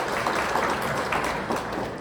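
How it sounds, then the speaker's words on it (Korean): An audience at a company event applauds, a brief, steady wash of clapping that sounds moderately distant, with no talk over it. "다 같이 박수 치면서 응원해봤으면 좋겠습니다"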